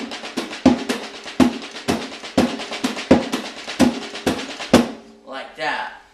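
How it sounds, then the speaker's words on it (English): Drum rudiment phrase played with the melody on one drum and all other strokes on the snare: quick, crisp hits in repeating groups with a lower tonal drum accent at each group's start, ending in a brief trailing ring. "I typically just use one drum to start with for my melody, and I put everything else on the snare drum"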